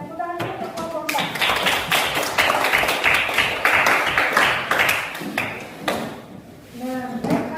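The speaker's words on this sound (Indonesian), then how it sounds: "Tepuk tangan dulu untuk kelompok 4" A classroom of students clapping for a student group after a discussion, a burst of many hands lasting several seconds, near and lively, with a voice speaking at the start and again as the clapping fades.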